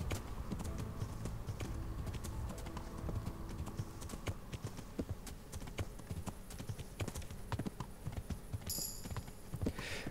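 Horse hooves clip-clop steadily while riding in the medieval video game Kingdom Come: Deliverance, a quiet, even walking rhythm with a faint background and a brief tonal chime near the end.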